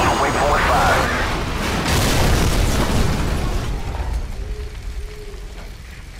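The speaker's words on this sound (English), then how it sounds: "Incoming missile!" An incoming missile explodes in the video game Call of Duty 4, a loud booming blast with rumbling debris that slowly decays, with shouted voices over the explosion.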